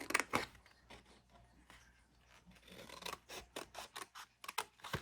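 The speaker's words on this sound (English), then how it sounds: "Cut up to that score line." Scissors snipping through cardboard up to a score line while making a K-Cup holder craft, a series of close, crisp rasping cuts in quick bursts, quieter at first and more frequent toward the end.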